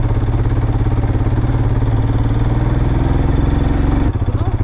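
Motorcycle engine running nearby, a loud steady throbbing idle with a rapid even beat that shifts slightly near the end, heard on a mountain road in Ladakh near the India–Pakistan border.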